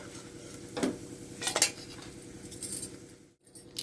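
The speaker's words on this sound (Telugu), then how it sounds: "వీటిని ఇప్పుడు ఆయిల్ లేకుండా ఇట్లా తీసి మిక్సీ జార్లో వేసేసేయండి" Fried ingredients are scooped from a pan of oil into a mixer jar, giving a few quick metallic spoon clinks and scrapes over a faint sizzle, with no talking.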